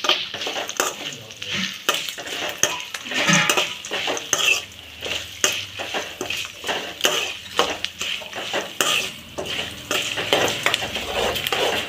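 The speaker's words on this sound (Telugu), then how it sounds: "ఇప్పుడు జీడిపప్పు వేసుకుంటున్నానండి. ఇవన్నీ దోరగా వేగాక ఆపేసుకోవడమేనండి." Cashew nuts fry in a pan of spinach rice, with a soft sizzle under busy, rhythmic scraping and clinking from a spoon against the metal pan.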